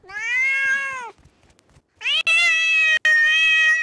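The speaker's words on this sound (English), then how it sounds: "It's a cat." A cat in the game Rust meows loudly twice, a short call followed after a pause by a longer, drawn-out meow, close by and clear.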